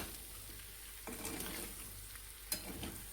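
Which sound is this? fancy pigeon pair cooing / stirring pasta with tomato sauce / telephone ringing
stirring pasta with tomato sauce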